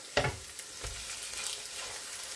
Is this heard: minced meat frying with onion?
yes